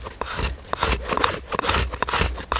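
Wood being scraped by hand into fine tinder for a fire in wet conditions, heard as a close, steady series of short rasping strokes that repeat quickly and unevenly, with no voices.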